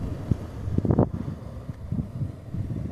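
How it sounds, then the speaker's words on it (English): Wind gusts buffet the microphone as a thunderstorm builds, uneven rushing bursts with one stronger gust early on, with no voices. "Oh, the wind did start picking up a little."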